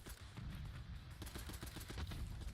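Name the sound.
22 rifle gunfire in a video game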